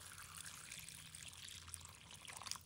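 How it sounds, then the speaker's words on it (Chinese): Clean water poured into a bowl of pineapple chunks salted with table salt, a faint, steady trickle and splash heard close and alone for a few seconds. "倒入清水"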